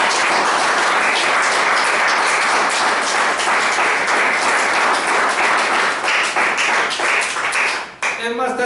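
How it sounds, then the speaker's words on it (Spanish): A church congregation claps and applauds together at a sermon, with a steady rhythmic patter that carries on for several seconds before dropping away. A voice speaks briefly near the end. "Dale un aplauso, señora"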